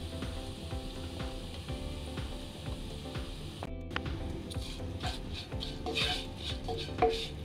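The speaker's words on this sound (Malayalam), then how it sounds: "ഈ മസാല നന്നായിട്ടൊന്ന് മിക്സ് ചെയ്ത് കൊടുക്കുക." A spoon scrapes and stirs spice masala of turmeric and Kashmiri chilli powder for green apple pickle in a pan, with soft, steady rubbing and faint clinks continuing throughout without any talk.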